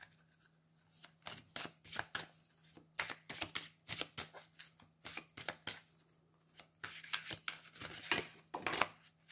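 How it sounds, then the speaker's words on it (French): Tarot cards are drawn and laid out one after another, a series of close, crisp slaps and riffling flicks in an irregular rhythm, quiet and without talking. "Je vais tirer les cartes."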